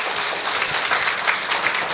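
Audience at a Malayali community stage event applauding at the close of a mimicry performance, a brief dense burst of clapping from a hall full of people with no talk.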